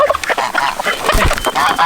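Farmyard chickens clucking and squawking nearby in a short, busy burst of overlapping calls, fairly loud, with a soft low thump partway through.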